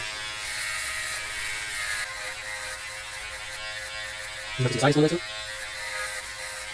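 A steady electric buzz hums throughout, with a brief louder rasping burst near the end as the shaver cuts through hair.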